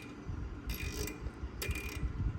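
Two short bursts of metallic ratcheting clicks from a high-speed needle being turned on a Linkert carburetor of a vintage Harley flathead 45 flattracker, close and fairly quiet over a low steady background hum.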